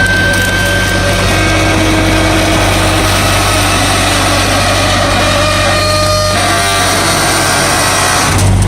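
Rear-load garbage truck, a 35-yard Pak Mor packer, idling as a loud, steady, close diesel rumble with a continuous low drone and a few faint mechanical clicks over it.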